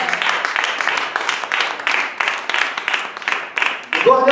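An audience at a church sermon applauds, a steady wash of many hands clapping that stays fairly loud and even throughout before trailing off near the end.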